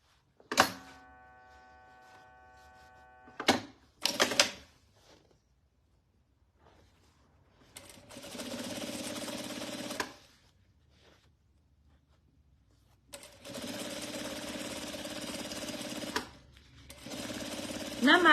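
A sewing machine runs in bursts while stitching a fabric bag lining, feeding the lining under the machine's feed dogs; several sustained whirring runs of a few seconds each, with short clicks and handling noises between, fairly close and clear.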